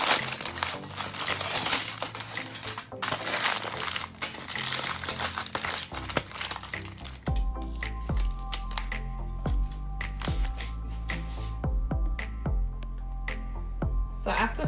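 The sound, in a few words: aluminium foil crumpling while wrapping stuffed red snapper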